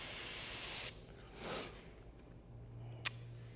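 Airbrush spraying paint for a patina finish on a rat rod: a loud steady hiss for under a second, then a softer puff, a low hum and a brief sharp burst of air.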